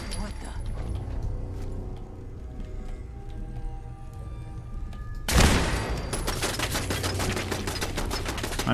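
Automatic turret fire in Fallout 4 erupts in a dense, loud burst of rapid shots after a stretch of quieter game ambience, continuing as a steady rattling barrage.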